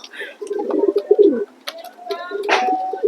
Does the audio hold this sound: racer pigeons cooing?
yes